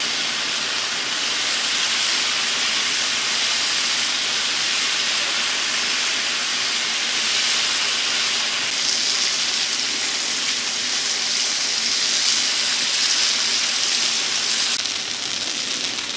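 Bacon, sausage and hash browns sizzle on a Blackstone griddle, a steady loud hiss and crackle with no talk.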